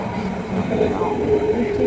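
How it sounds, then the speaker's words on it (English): An S-Bahn commuter train running between Berlin and Brandenburg rumbles steadily from inside the carriage, with a continuous low drone, and a brief voice speaks over it. "a train that connects cities in Brandenburg."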